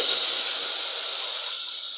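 Curry leaves sizzling in hot ghee in a pan while pongal is prepared, a loud continuous hiss close by, steady for about two seconds with no talking.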